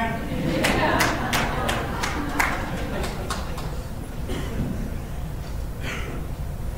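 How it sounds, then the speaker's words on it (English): Audience at a military field artillery graduation ceremony claps in a brisk burst of applause that starts loud and gradually thins out, with a few scattered claps trailing at the end. "please join me in another round of applause for our distinguished graduates"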